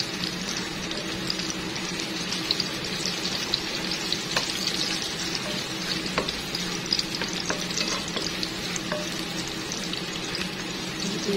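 Garlic fries in a pan for pork afritada, giving a close, steady sizzle with frequent scraping stir clicks and small pops, and no talking over it.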